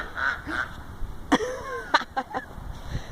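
White ducks quack and honk in a few loud, uneven bursts nearby, with quieter outdoor background between calls.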